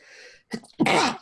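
A single close, sharp human sneeze bursts out after a brief inhaled build-up, loud and explosive, then fades quickly.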